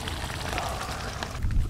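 Rain beginning to fall over an open field at a countryside meal: a steady, soft, broadband patter of drops with no talking.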